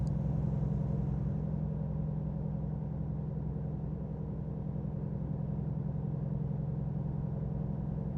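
A truck in American Truck Simulator holds a steady low engine drone and rumble while cruising at constant speed, even and unbroken, with no talk.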